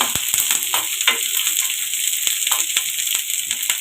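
Curry leaves sizzle and crackle in hot oil for chicken 65, a steady bright frying hiss broken by sharp pops and spits.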